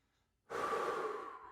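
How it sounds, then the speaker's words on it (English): A single close, slow breath during a vinyasa yoga flow rises suddenly after a quiet moment and holds as a long, airy exhale, heard alone. "Keep breathing."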